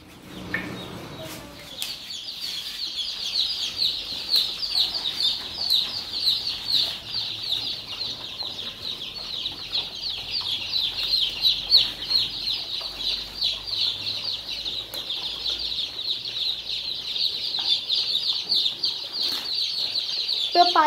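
A crowded poultry shed full of chickens gives off a continuous, dense chorus of clucking and chirping with occasional wing flaps, moderately loud and steady throughout.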